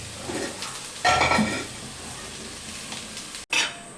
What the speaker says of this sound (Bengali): আমি আলুগুলো ঢেলে নেব